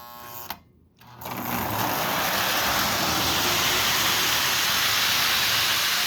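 A Lionel U36C limited-edition model train locomotive pulling a multi-car train with caboose runs steadily, a close, continuous whirring hum and rolling rattle that starts after a brief pause and stays level.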